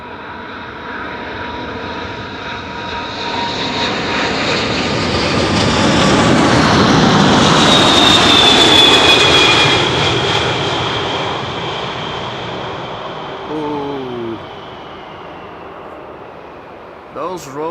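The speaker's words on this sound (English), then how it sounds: "Those Rolls-Royce engines do whistle lovely." A jet airliner with Rolls-Royce engines passes overhead at Amsterdam Schiphol Airport, with a rising, whistling engine roar that swells to a peak and slowly fades; a voice briefly speaks near the end.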